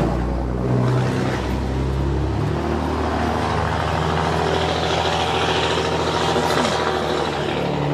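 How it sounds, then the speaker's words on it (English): A diesel engine runs outdoors at a Memorial Day ceremony, a loud, steady low rumble that holds throughout without a break. "That's some diesel power out there."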